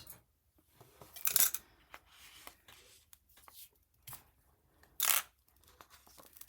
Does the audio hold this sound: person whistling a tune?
no